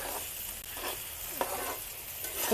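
Moong dal dry-roasting in a pan while being stirred, a soft steady crackle and sizzle with scraping sweeps of the spoon, close and continuous, without talking.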